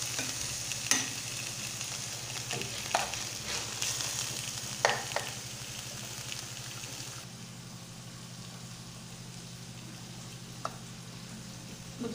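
Onion goes into a pan of frying chicken pieces, a close sizzle broken by several sharp scraping clacks of stirring, then settling into a quieter, even hiss.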